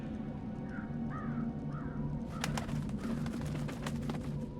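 Crow cawing in the video game Dreamfall: a few short hoarse calls against steady ambient game background, followed by denser clattering sounds.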